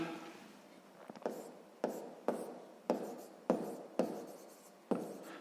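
Pen scratching on paper while working a sixth-grade geometry problem, about eight quick strokes in an uneven rhythm, each starting sharply and trailing off, close and fairly quiet, with no voices.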